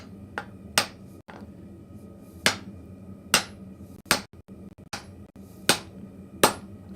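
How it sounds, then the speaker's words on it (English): Hammer blows ring out sharply on metal in a blacksmith shop with no climate control, about a dozen separate strikes at an irregular pace, some loud and close, others lighter taps, with no talking. "I'm gonna actually get a bigger hammer for whacking this."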